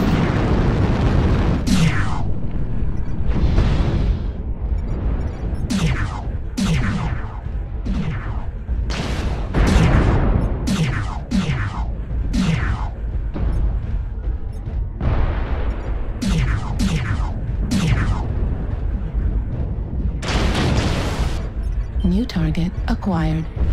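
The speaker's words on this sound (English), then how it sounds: "artillery strike online." Artillery strike explosions in the video game MechWarrior Online, a series of repeated booming blasts at irregular intervals, loud and close, mixed with game voice callouts and talk.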